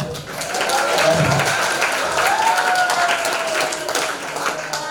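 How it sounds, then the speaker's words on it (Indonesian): An audience at a national-values outreach session in Indonesia claps together in a dense, steady wash of applause that holds for several seconds, with faint voices mixed in. "Tepuk tangan."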